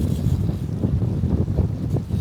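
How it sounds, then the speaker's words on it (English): A strong gust of wind blows outdoors, buffeting the microphone with a steady, loud low rumble that surges and eases throughout, with no talking. "there's a very big gust of wind blowing right now"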